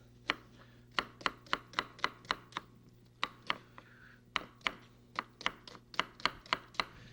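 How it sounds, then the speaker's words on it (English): A knife slices peeled onions on a board in a steady series of crisp, close chopping taps, with a short pause midway before the rhythm resumes, alone in a quiet kitchen. "They're your onions, peeled and sliced in the usual way."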